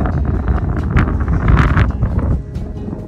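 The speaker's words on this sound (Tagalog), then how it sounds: "Medyo mahangin lang yun lang ang problema." Strong wind buffets the microphone at a pumpkin patch in Saskatoon, in loud, gusty roars that swell and ease throughout, with no voices.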